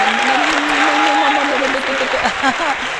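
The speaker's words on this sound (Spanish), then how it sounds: "Vamos a despedir a Natalie Silvana con fuertes aplausos, por favor." Studio audience applause sending off a departing guest on a TV program, steady crowd clapping close up, largely masked by loud speech running over it throughout.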